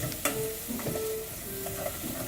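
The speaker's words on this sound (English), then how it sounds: "So that's now sizzling away," Beef stroganoff sizzling steadily in a frying pan, a dense crackling hiss with small pops and a few faint tonal squeaks, close and continuous throughout.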